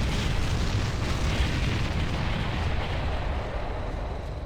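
Artillery bombardment rumbles on in Ground Control, a dense continuous roar of overlapping explosions that stays loud and close and fades only slightly.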